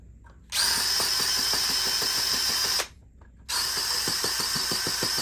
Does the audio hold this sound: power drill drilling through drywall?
yes